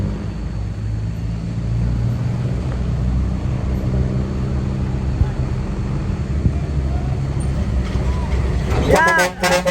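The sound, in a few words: truck being hitched for towing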